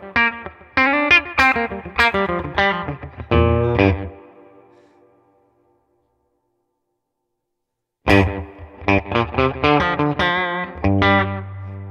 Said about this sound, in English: There's a lot of reverb on this Tone King plugin.